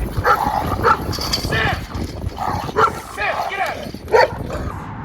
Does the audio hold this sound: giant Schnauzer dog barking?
yes